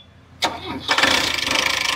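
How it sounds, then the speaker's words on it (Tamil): A Tata Sumo engine cranks briefly, then catches and starts, settling into a steady, loud running rumble. "வண்டி இப்போ ஸ்டார்ட் பண்ணாங்க"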